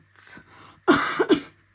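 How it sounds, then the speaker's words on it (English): A soft throat clear followed by a sharp, close cough with a couple of quick hacking bursts, then silence. "Apologise about my coughing."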